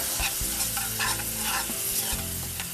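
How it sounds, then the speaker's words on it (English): A tomato-based sauce with white wine sizzles loudly in a pan while being stirred, close utensil scrapes and clatter over a constant frying hiss, no talking. "Stir this around."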